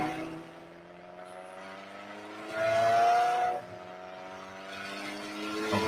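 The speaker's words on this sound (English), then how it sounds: "let's finish up listening to the sounds of these two cars" Nissan Skyline R32 and R33 cars driving, their engines giving a steady mid-distance drone that swells louder for about a second midway, then eases back, with no voices present.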